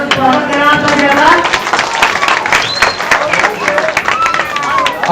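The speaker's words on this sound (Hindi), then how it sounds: "इनका जोरदार तालियों में स्वागत करना।" Audience clapping at an outdoor political rally for a municipal council candidate, dense applause running through the whole stretch with voices and crowd chatter mixed in and a loud, close presence.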